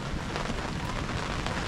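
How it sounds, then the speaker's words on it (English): Steady rain during a thunderstorm at an open creek dam, a dense unbroken hiss of falling water with no distinct thunder clap, fairly even in loudness throughout. "Rain, thunderstorm."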